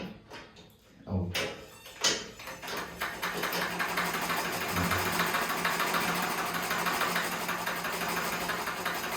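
A sewing machine starts up after a few knocks and clunks and then runs in a fast, even, continuous whir, with a person talking over the start.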